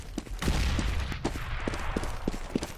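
Rapid bursts of gunfire in a Counter-Strike match on de_cobblestone or de_mirage, sharp shots repeating irregularly over a dense game background, fairly close and loud throughout.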